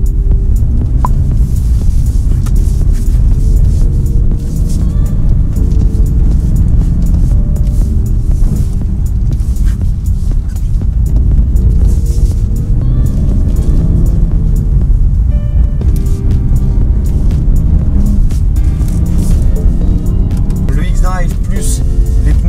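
A BMW 440 with studded tyres driving on an ice track, its engine droning loudly and steadily throughout, with someone speaking over the noise.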